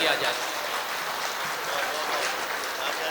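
An audience at a mushaira in Kadpa applauds to welcome a guest poet, with dense, steady clapping that holds strong and near for about three seconds and has no voices on top.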